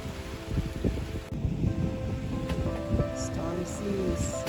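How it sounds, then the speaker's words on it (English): Stormy sea waves wash against a Bahamas beach at Clifton Heritage National Park in a continuous rushing roar, mixed with gusty wind noise and scattered faint background sounds. "Stormy seas."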